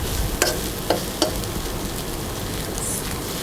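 Glass noodle pad thai with fresh shrimp, bean sprouts and garlic chives is stir-fried in a pan, giving a soft sizzle under a few sharp utensil scrapes and clacks near the start.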